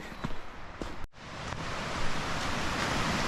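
Stream water flowing near a campsite on the Appalachian Trail, a steady broadband rush close by, with a brief rustle or footstep at the start.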